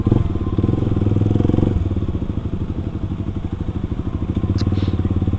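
A Kawasaki KLX 250 supermoto motorcycle rides along a city street. The single-cylinder engine keeps up a loud, close, rapid thumping putter and eases slightly before settling into a steady cruising rhythm.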